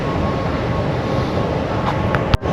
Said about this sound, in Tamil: நம்ம போகக்கூடிய ட்ரெயின் வந்துருச்சு.